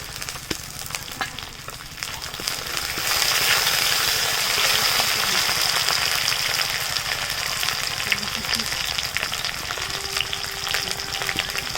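Chopped tomato dropped into a pan of fried ginger and garlic, giving a loud, steady sizzle that swells as the tomato goes in and keeps crackling evenly, with faint stirring scrapes.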